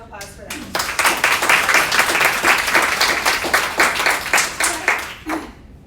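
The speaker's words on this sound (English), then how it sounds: "So another round of applause for them." Loud, sustained applause from the audience at a women-in-procurement panel event, steady dense clapping for about five seconds before it stops abruptly.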